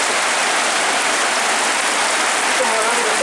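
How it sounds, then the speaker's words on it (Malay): Steady, loud rain pours down outdoors during a hunt, a dense unbroken hiss with no pauses throughout. "Hujan mak, hujan."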